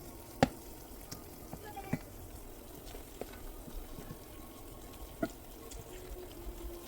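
Potatoes sizzle softly in a frying pan as they are turned, with a steady low crackle and a few distinct clicks and taps from the utensil.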